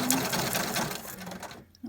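A sewing machine stitches through paper strips to make ruffled embellishments, running steadily and loudly up close before stopping near the end.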